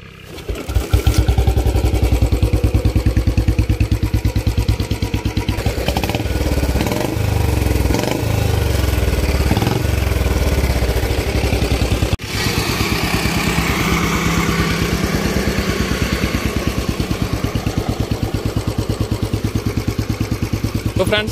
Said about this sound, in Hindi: तो फ्रेंड्स, आप इस बुलेट की आवाज़ सुन सकते हैं